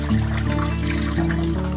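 Water splashing and trickling steadily over tangra fish being washed, a continuous close wet pour with no talking.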